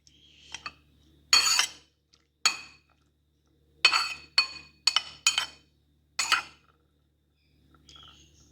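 Red food colour is stirred into tutti frutti in a bowl: a spoon gives clear, separate clinks and scrapes against the bowl in irregular bursts, close and fairly loud, with quiet pauses and no speech.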